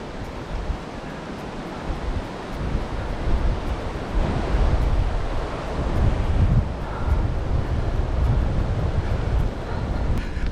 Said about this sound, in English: So the wind's getting up again.